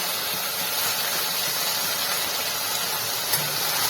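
Washed mung beans are stir-roasted in a pan over medium-high gas, giving a continuous, dense hiss that stays even and close throughout.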